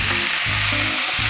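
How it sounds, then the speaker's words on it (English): About two tablespoons of capers fry in a pan, giving a loud, dense, close sizzle with low bubbling pulses underneath and no voices. "I'm going to put the capers, about 2 tablespoons of capers."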